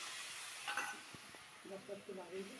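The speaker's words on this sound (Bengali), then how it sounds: "মশলা কষাচ্ছি" Spices sizzle and hiss faintly in a pan while a vegetarian dish is cooked. A few stirring clicks and a woman's brief speech sound over the low frying.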